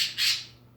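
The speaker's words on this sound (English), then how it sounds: "Kiwi, listen to the bird right now." A bird gives one short, harsh squawk, clear and fairly close, fading quickly into quiet.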